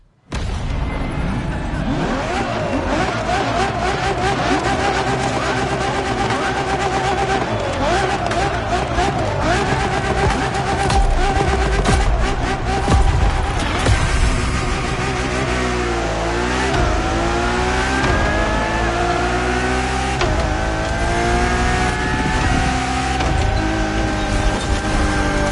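A 2002 Ferrari Enzo supercar engine revs and accelerates through climbing gear sweeps, loud and close, with a voice talking over much of it.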